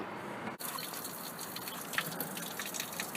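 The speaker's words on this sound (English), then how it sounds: "I'm just giving that a bit of a flush out with the hose. It's coming out a little bit out of that bottom hose." A garden hose flushes water through a Holden Commodore's cooling system during a water pump and hose replacement, and the water runs out of the bottom hose as a faint, steady gush and splash.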